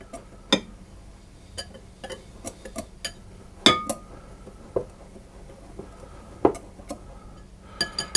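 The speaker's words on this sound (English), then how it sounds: "put my corn flour and the salt into the almonds, and I'm going to stir those around" Spoon stirring corn flour, salt and almonds in a bowl for a gluten-free pear and almond tart, sparse close clinks and ticks against the bowl at an uneven pace, with no voices.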